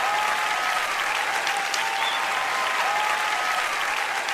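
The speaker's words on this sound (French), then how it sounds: "j'ai eu un petit applaudissement pour l'exercice physique" Steady audience applause fills a sermon hall, dense and continuous from start to finish, with no voices rising above the clapping.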